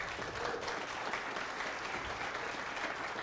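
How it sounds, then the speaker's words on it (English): Conference audience applauds the event staff at a technology conference, a steady, even round of clapping from a crowd, moderately distant and with no talk over it. "John, he deserves a good round of applause."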